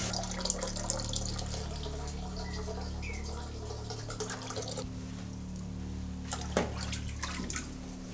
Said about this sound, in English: if we fill it right up with water, I don't think you'll stay in there very long